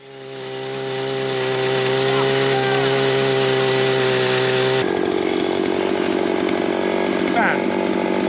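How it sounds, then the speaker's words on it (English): A powered auger drills into crumbly granite while fence holes are dug, its engine revving up into a loud, steady motorized roar that changes tone partway through as the bit bites deeper. "he made a change to the bigger auger."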